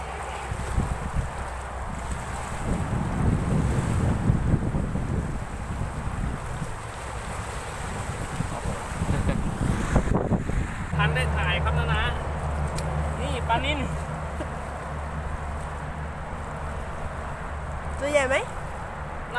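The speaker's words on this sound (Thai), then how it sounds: "วันนี้ลมแรงมากครับ" Strong wind and waves on the Lam Takhong reservoir while fishing from shore, with heavy wind buffeting the microphone and rushing water at first, then steadier surf with distant chirps; someone talks over parts of it.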